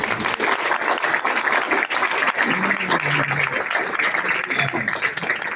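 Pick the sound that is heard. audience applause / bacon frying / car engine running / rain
audience applause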